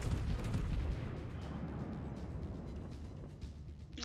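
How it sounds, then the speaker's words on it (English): A Friedrich der Grosse battleship fires a main-gun salvo in World of Warships: a heavy boom at the start gives way to a long, loud, rolling rumble that slowly fades. "Another disappointing salvo."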